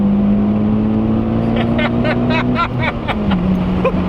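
A 2011 Mitsubishi Evo X with a stock clutch and a tune is pushed hard toward its 7,500 rpm redline, its engine roaring loudly and steadily from inside the cabin while people talk over it.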